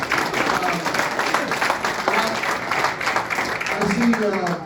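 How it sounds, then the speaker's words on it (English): A crowd at a Bloomberg 2020 campaign headquarters opening in Baltimore, Maryland applauds, loud continuous clapping with some cheering and voices mixed in throughout. "round of applause for yourself"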